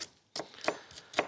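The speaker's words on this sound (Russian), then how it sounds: "Я нарезаю лук, как я уже декларировал," Several sharp knife chops through an onion on a board, irregularly spaced, close and fairly crisp, with a short pause before the strokes resume.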